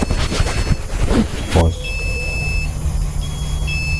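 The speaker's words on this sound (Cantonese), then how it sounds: "動態感應器，未到2分鐘時間，連接發起3次警報" A motion sensor alarm emits a high, steady electronic tone in two stretches after a burst of nearby speech and rustling, continuing over a quiet low hum.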